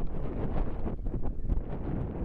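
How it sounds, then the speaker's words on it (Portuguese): Wind buffets an outdoor microphone at a small-town cup football final in Peniche, a steady rough rumble with gusty swells filling the whole stretch and no voices. "já está a menos vento"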